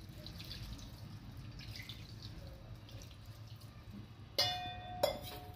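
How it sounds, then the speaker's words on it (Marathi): Cold water splashes from a tap over boiled soya chunks in a kitchen sieve, a soft trickle and dripping that ends in two sharper bursts of pouring near the end. "चाळणीमध्ये ओतून घेतले, त्याच्यावरून थोडंसं थंड पाणी टाकीते"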